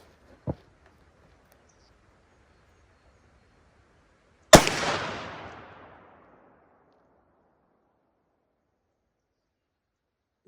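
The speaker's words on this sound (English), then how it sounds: "I will shoot it offhand after I sight it in the pistol" Two sharp revolver shots from a Taurus Model 44 at an outdoor range: a small snap near the start, then a loud blast about four seconds later whose echo trails off over roughly a second and a half.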